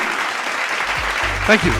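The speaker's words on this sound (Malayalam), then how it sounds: "അപ്പോൾ തീർച്ചയായും അവർക്ക് എല്ലാവർക്കും ഒരു വലിയ കയ്യടി" A crowd applauds the recipients at a Golden Achievement Award ceremony in Dubai in 2024. Steady clapping fills the room, with a voice speaking over it.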